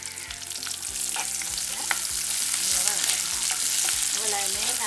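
Garlic, green chillies and curry leaves fry in hot oil in a pan for a Jaffna-style drumstick curry, giving a steady, close sizzle with a rhythmic stirring scrape throughout.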